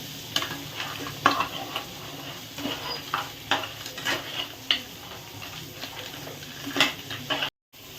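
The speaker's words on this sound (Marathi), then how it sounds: "सो असं खेकडं टाकल्यानंतर त्याला मसाल्यामध्ये मी चांगलं भाजून घेऊ" Crab pieces stir-fry in masala in a pan, giving a steady close sizzle broken by repeated scrapes and knocks of a spoon against the metal as the mixture is turned, with no talking.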